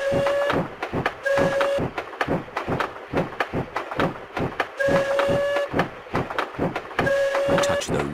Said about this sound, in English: Turn the wheel to make the train go slower.